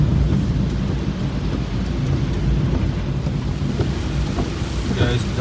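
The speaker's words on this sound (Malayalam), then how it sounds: "ഇനി അത്യാവശ്യം നല്ല രീതിയിലുള്ള മഴ പെയ്തുകൊണ്ട് നിൽക്കുകയാണ്" Heavy rain pours outdoors around Mananthavady, a steady, loud, dense roar that stays constant throughout, with some wind buffeting the microphone.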